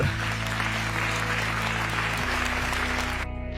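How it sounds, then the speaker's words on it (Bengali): An audience applauds graduates at a ceremony, giving a loud, steady burst of clapping that fills the clip and tapers slightly at the end. "আপনারা নিজেদের জন্য একটা জোরে করতালি দিতে পারেন"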